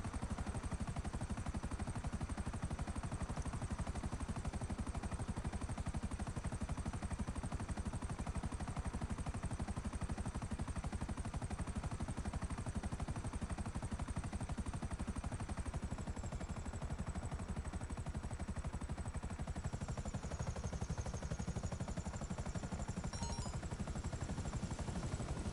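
A Buzzard attack helicopter flies in GTA V, a loud, constant rotor thrum with a high whine, steady the whole time and with no voices.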